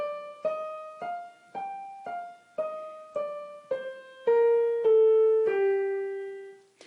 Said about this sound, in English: So first I'm going to play you the natural minor scale